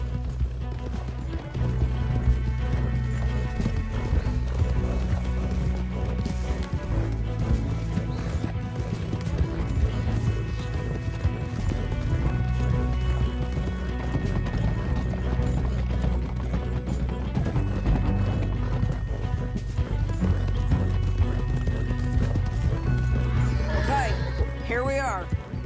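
Rapid hoofbeats of galloping horses with occasional whinnies over a busy, layered Red Dead Redemption 2 game soundscape, with voices speaking at times.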